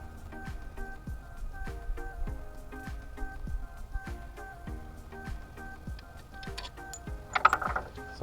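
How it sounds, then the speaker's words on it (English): A ratchet loosens alternator bolts on a car engine in a series of rapid, evenly paced clicking strokes, close and moderately loud, with a brief metallic clatter toward the end. "So I loosen these bolts up. I'm going to take the bottom 2 out first."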